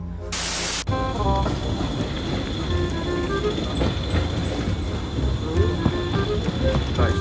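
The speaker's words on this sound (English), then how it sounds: "we're now at the rear, at the very end of the train now" Great Western Railway train running, heard from inside the rear carriage: a steady rumbling roar with rhythmic wheel clatter on the rails, opening with a short loud burst of noise.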